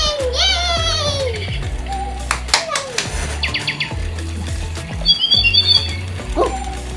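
A realistic, colorful toy bird squawks and chirps in short repeated bursts, loud and close, with a voice and excited talk around it.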